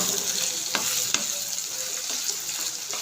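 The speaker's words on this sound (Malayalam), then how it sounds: "ചിക്കൻ പൊരിച്ച എണ്ണയിൽ ഉള്ളി വാട്ടി ഇഞ്ചി വെളുത്തുള്ളി പച്ചമുളക് ഇട്ട് അതിന് ശേഷം തക്കാളി ഇട്ടു" Onion, ginger, garlic, green chilli and tomato fry in oil left from frying chicken, a steady close sizzle with a few clicks of stirring.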